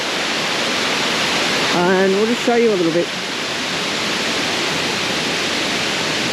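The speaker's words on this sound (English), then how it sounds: "We've also got these waterfall areas here" A steady, hissing rush of falling water from the Kroeng Krawia waterfall in Khaolaem National Park, Thailand, continuous throughout, with someone briefly speaking over it near the start.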